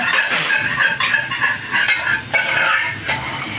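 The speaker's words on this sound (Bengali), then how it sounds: "ডালটাকে তো ঘুটে নিলাম" Cooked dal being stirred and mashed in a pot, a steady run of scraping and soft thick churning strokes with faint clinks of utensil against metal, close and alone.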